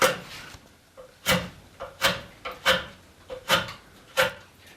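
A draw knife shaves a wooden chair arm rail, skewed across the grain, in about seven quick rasping strokes, each a short crisp scrape with brief pauses between, close and clear without talk.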